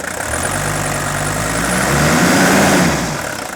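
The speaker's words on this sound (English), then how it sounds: "So I'm going to let this run for a while. Periodically, I'll race the engine up." An old diesel engine idles loudly and close up during a fuel system service, a steady low rumbling clatter that swells slightly midway as the revs rise a little.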